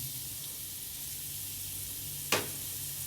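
Onions dropped into a hot sauté pan with chicken and a little flour hiss in a steady, bright sizzle that stays even throughout, broken by one brief sharp crackle near the end.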